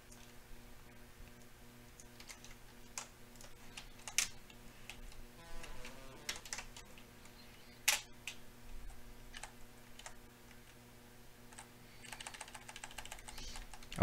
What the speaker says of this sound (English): I don't know how well you can hear my keyboard tapping